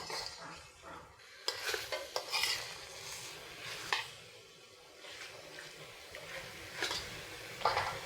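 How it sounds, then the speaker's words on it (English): A utensil scrapes and taps against a pan while spice paste for chicken opor is stirred, faint irregular clinks and scrapes over a low sizzle, with no talking. "And keep stirring it so the paste not stick on the pan."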